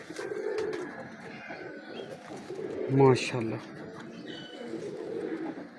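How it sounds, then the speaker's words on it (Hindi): Young Prince Kamgar breed pigeons coo softly from a loft, with one clear throaty coo near the middle and quieter bird sounds around it. Someone speaks briefly. "प्रिंस कमगर कबूतर हैं"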